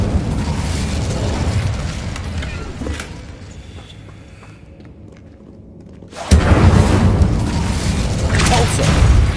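A loud fiery blast from the Incendio fire spell in the Hogwarts Legacy video game, a sustained roaring burst that fades to a quiet lull before a second big whooshing blast erupts and keeps roaring.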